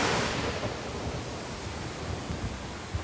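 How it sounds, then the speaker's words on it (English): Ocean waves at sunrise make a broad, steady wash of surf noise, a continuous rushing roar with no voices. "I'm gonna leave you with the sound of the ocean, okay? It is the sound of the ocean."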